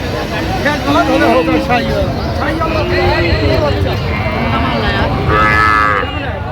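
Cows moo repeatedly at a cattle market, long drawn-out lows rising over a busy crowd murmur.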